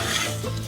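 Rice stirs in hot oil in a pot over medium-low heat, giving a brief, soft scraping and faint sizzle up close.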